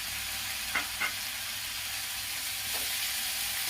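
Coarsely crushed coriander leaves, chilli and garlic fry in hot oil for kadhi pakoras, a steady close sizzle broken by a couple of brief spoon scrapes.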